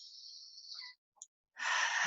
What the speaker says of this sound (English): long, slow breath in.